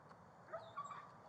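A police dog lets out brief faint whimpers and a soft bark-like yelp during a tense armed police standoff, quiet and distant under a steady background hiss.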